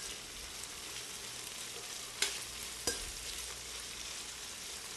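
Onions sautéing in a pan, softening with caramelized garlic set aside, give a steady broadband sizzle throughout with two brief sharp clicks from stirring or utensil contact.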